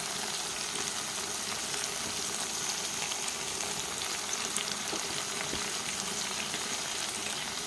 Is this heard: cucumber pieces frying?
yes